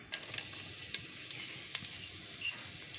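Garlic frying in oil in a pan for pork lumpia filling, a steady soft sizzle with faint crackles and a few small pops, close and alone without talk.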